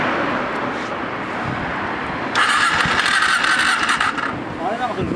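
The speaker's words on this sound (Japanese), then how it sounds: "エンジン音聞かせてもらえる？" A Kawasaki W400 motorcycle engine cranks and catches, settling into a loud, rattling idle close by, with a squeal of revving over outdoor background noise in Nerima, Tokyo.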